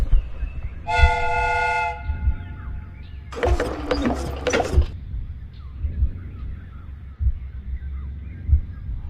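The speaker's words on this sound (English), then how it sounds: "The steam whistle is ready to be used." Steam whistle on a replica train in the game Sherlock Holmes: Crimes and Punishments, a loud sustained shrill tone for about a second, then a burst of hissing steam, over a low rumbling background.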